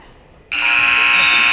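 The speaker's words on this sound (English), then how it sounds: "there is the buzzer for period number 2" A loud, sustained electronic buzzer sounds abruptly to end the second period of a high school wrestling match between Connellsville and Gateway, its harsh steady tone cutting in over a quiet gym.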